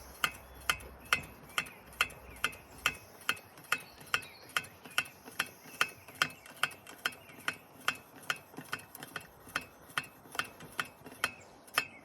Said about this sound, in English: About 30 pumps or so.